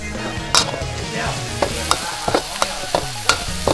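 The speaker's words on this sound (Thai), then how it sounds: "เราต้องผัด" Vegetables and garlic stir-fried in oyster sauce in a pan give a steady sizzle broken by sharp metallic scrapes and clanks of the spatula at irregular intervals, close and loud, with no talk.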